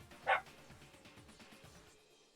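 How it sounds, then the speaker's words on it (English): A single short dog bark rings out near the start, then fades into faint background sound with no talking. "I am sorry for the dog."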